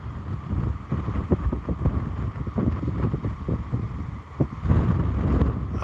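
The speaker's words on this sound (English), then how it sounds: "The wind is terrible though. I wish it wasn't so windy." Heavy wind at a beach buffets a phone microphone in a steady low rumble, with gusts that swell and fade throughout.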